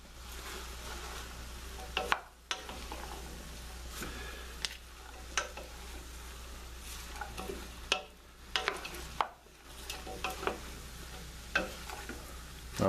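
Andouille sausage and thyme cooking in a pot over a raised flame, a soft steady frying hiss punctuated by scattered clicks and scrapes of a spoon stirring against the pot.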